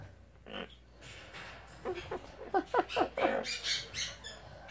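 Ivy, a pet bird, gives a series of short, chirpy calls and squawks, a few spaced early and then a quicker burst of several, fairly close and faint indoors.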